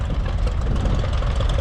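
A Cockshutt Model 99 tractor in an outdoor parade of power runs with a loud, steady low engine rumble and fast, even knocking pulses, close and continuous.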